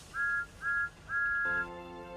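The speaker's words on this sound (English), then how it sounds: "He blew his whistle." A diesel engine's whistle sounds three times, two short toots and then a longer steady blast, clear and tonal, followed by a lower sustained horn-like chord as the last note fades.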